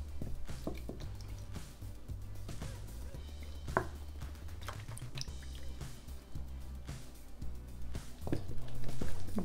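Flour being stirred by hand into calzone dough, about half of eight cups added, giving soft repeated wet squishing and dripping sounds close up, with no talking.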